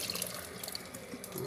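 Mung beans being washed in water for bean sprouts give off steady splashing and running-water sounds, with small drips and sloshes, close and moderately loud.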